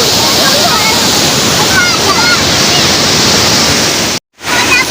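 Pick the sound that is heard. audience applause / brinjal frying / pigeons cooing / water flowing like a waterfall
water flowing like a waterfall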